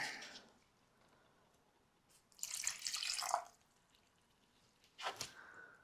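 Water pours in two short bursts, a longer splashing stream followed by a brief second pour, close by against a quiet background.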